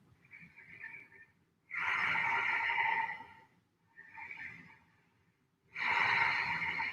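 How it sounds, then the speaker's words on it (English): Slow deep breaths in a Tibetan rites exercise practice: two soft inhales alternate with two louder, rushing exhales through the nose, close and quiet, with short pauses between them. "Taking our 5 deep breaths here."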